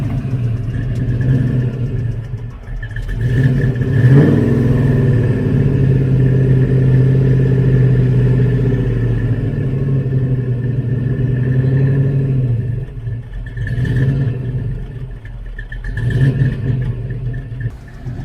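A small red coupe's engine revs and sags unevenly as it struggles to hold idle, with repeated throttle blips over a steady close rumble and no talk.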